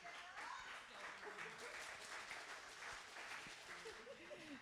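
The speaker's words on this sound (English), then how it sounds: "Give it up with them hand claps now." Sustained audience applause fills an evening community board meeting, a dense, steady wash of many hands clapping at an even level for several seconds, with faint voices mixed underneath.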